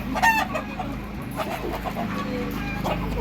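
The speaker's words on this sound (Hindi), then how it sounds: "उधर बैठी है, मुर्गी बैठी है" Hens cluck in short, choppy bursts, with a rooster-like call rising briefly at the start over a steady background hum.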